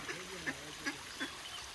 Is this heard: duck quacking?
yes